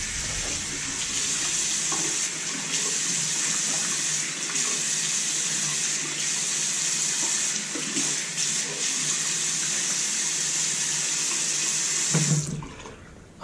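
Tap water runs steadily into a sink while a straight razor and shaving soap are rinsed under it, a constant close splashing hiss that stops abruptly near the end.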